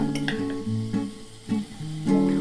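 Curry base being sautéed in a pan, heard as intermittent scraping and stirring knocks over a low sizzle, close up and without speech.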